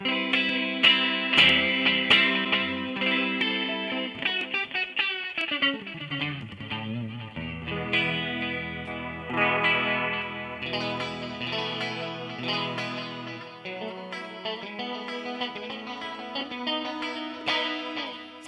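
Electric guitar fitted with Artec 12k and Giovanni The Power pickups, with a shimmering chorus effect, plays chords and single notes, ringing and sustained, with no voices.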